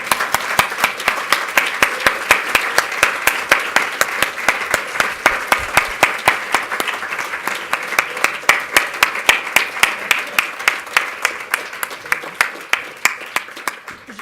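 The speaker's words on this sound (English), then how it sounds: "I think we should clap, yes?" An audience claps steadily after a roundtable discussion on ecovillages at a university event, a dense, sustained round of applause heard alone for the whole stretch.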